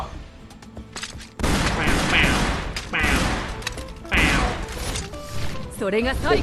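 Volleys of gunfire in the samurai action game Sengoku Basara 4, loud repeated bursts over a busy battle backdrop, with a voice calling out over the shots.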